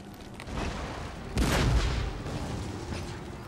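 Musket volleys and artillery fire in the Empire Total War video game: a low rumbling bed of distant shots, then a heavy boom about a third of the way in that rolls on.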